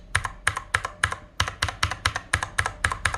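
Blue clicky switches on a Scorpion KG909 mechanical keyboard are pressed one at a time, giving a close, loud train of about a dozen sharp clacks at an even pace, with no talking.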